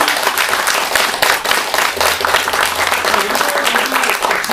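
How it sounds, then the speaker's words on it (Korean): An audience applauds at the close of a lecture, with dense, continuous clapping from a crowd that keeps steady throughout. "다시 한번 우리 오늘 또 좋은 강의를 해주신 김상국 대표께 다시 한번 큰 박수 부탁드리겠습니다."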